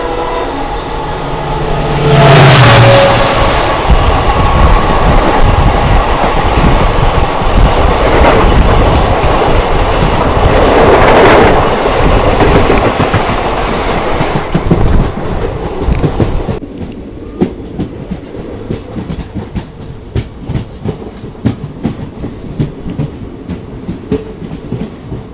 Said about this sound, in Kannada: Hospete Mumbai CSMT Super Fast Express crossing.